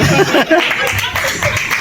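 Live audience applause at a Hindi comedy poetry show, a continuous patter of many hands clapping with scattered laughter mixed in, heard close and fairly loud throughout.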